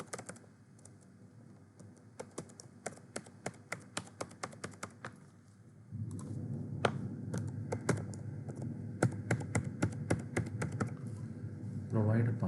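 Computer keyboard typing as a password is entered: bursts of quick, crisp key taps, sparse at first then denser over a low hum, with faint background sound and no speech.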